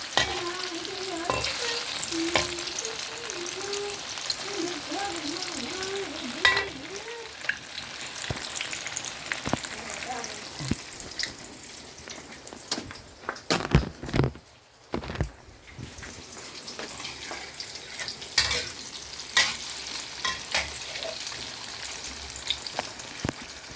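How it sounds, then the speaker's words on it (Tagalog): Tofu frying in a pan, a soft continuous sizzle with stirring clatter and utensil scrapes, close and moderately quiet, with faint brief background noise. "Magluluto ako ngayon ng tokwa."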